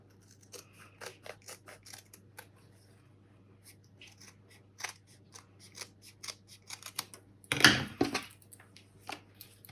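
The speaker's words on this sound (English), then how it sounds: "let's use some scissors" Scissors snip through fabric in a quiet room: a series of close, crisp cuts in uneven rhythm, ending with a louder, longer cutting burst near the end.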